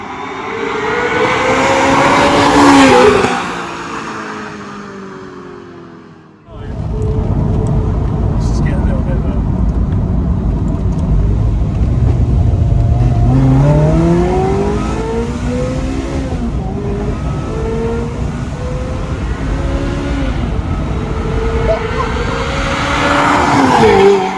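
A Ferrari 355 F1 GTS engine revs hard and accelerates through rising gear sweeps, loud and close, pulling up again after a brief dip, with people talking over it.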